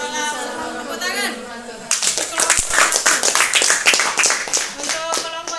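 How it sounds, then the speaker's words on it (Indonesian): A class of students breaks into a lively round of applause in a classroom after a group presentation, dense rapid claps following a short stretch of talking. "Tepuk tangan."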